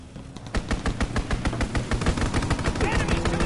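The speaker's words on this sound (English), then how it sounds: "Strafing the target." Rapid automatic gunfire from a fighter pilot's strafing run in a PS4 shooter game, a dense burst of loud repeated shots that begins after a brief lead-in and pounds steadily to the end.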